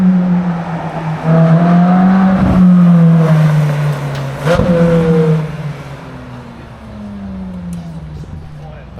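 A Ferrari supercar on a Tokyo street gives a loud, sustained engine drone that rises, holds and fades as it passes, with a couple of sharp transient knocks midway.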